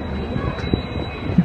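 A train engine near a station footbridge on the Kolhapur to Miraj line gives a brief, steady rumble that stays at moderate distance and holds through the whole moment.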